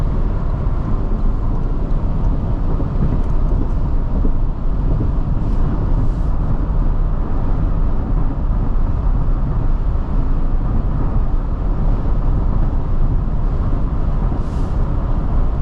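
Steady wind and road roar inside a 2024 Toyota Tacoma TRD Off Road cruising on the highway, a constant broadband rush with low rumble, continuous and even throughout.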